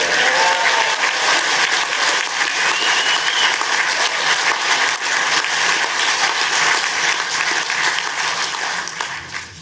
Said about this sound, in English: With all that clapping, I'm out of time.